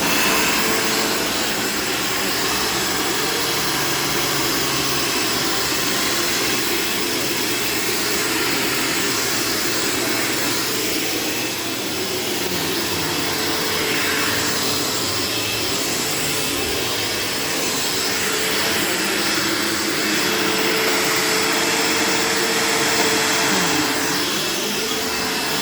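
A 1990 Dirt Devil Featherlite bagged upright vacuum cleaner runs steadily throughout, a loud continuous motor whine and airflow roar with slight swells as it is pushed around, no talking.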